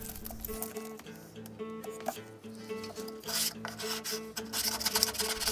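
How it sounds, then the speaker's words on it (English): A close, rough rasping and scraping, like a blade drawn across tape, runs continuously over a faint tonal background. "So I'm testing the angle and cut with some masking tape."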